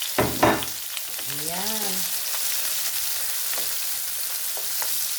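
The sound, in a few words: garlic, onion with chili and tomato sautéing in pan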